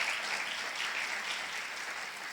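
Steady audience applause at a gathering honoring professional mothers, even and continuous for a couple of seconds at moderate distance, with no voices over it.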